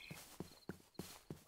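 Horse hooves in the Minecraft Pixelmon video game, five evenly spaced faint clip-clops in a steady walking rhythm.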